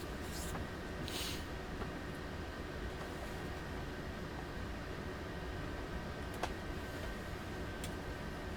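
A BR 425 electric multiple unit running on the Duisburg–Bochum line in Train Sim World 2, a steady low rumble with faint rhythmic ticking and hiss, quiet and constant, with a few brief clicks.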